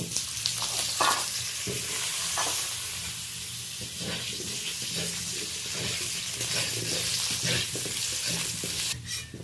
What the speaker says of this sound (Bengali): ওই তেলে আমি লবণ হলুদ দিয়ে আলুটা ফ্রাই করে নেব